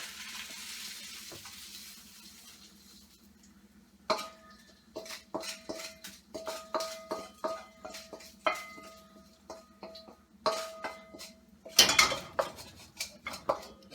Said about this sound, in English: So I'm going to take it out and plate it. I'm going to take it out of the wok.